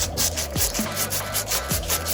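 Coarse P40 sandpaper rubs in steady back-and-forth strokes on a part of a Bolens 20-inch 450 series E mower with a 125cc Briggs & Stratton engine, close and dry-sounding with brief scratchy accents.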